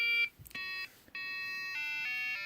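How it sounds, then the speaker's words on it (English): An embedded-system alarm clock plays its alarm song as a run of electronic beeping tones that step through different pitches, each note held briefly with short gaps, clear and close with no talking. "12:10, the alarm is going off."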